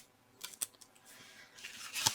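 Scissors cut a strip of fabric scrap with several quick, crisp snips. The snips come in a short irregular cluster, then a louder pair follows after a pause, close and clear in a quiet room.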